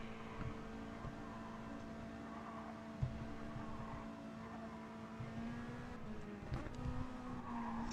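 Race cars in the closing stages of the Bathurst 1000 motor race, heard as a fairly faint, steady engine drone with a few passing swells and brief tyre noise, no talk over it.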